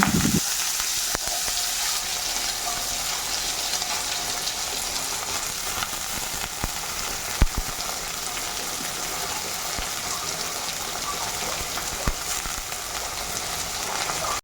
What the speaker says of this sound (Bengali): ফাইনালি এখন রান্না করছি বাঁধাকপির তরকারি